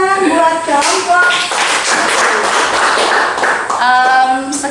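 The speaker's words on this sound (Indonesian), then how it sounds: "Tepuk tangan buat kelompok" A classroom group claps for classmates after a presentation: a steady patter of hand claps with voices talking and calling out over it throughout.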